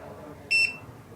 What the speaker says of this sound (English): We can hear the beep sound.